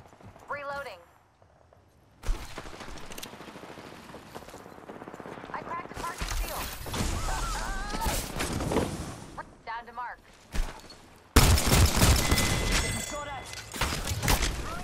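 Gunfire from the 33 weapon in Apex Legends Season 14, loud bursts of rapid shots in a busy firefight with dense game effects, mixed under steady talking.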